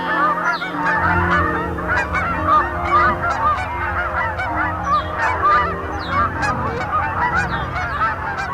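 A flock of Canada geese honks continuously, many overlapping calls at close to middle distance, loud and dense throughout with no voices.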